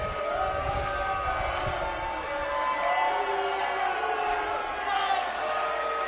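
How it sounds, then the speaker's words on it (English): Crowd at a wrestling event reacting with steady, loud booing and jeers, a broad continuous roar of voices filling the arena for several seconds after a tag-team win. "The crowd here not happy about it."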